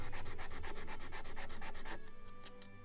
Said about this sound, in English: A little more sanding here.